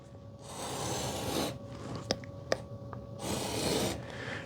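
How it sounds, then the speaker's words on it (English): A utility knife with a fresh blade scores drywall along a square in three rasping strokes, close and quiet, separated by a couple of sharp ticks. "So I'm going to score the drywall."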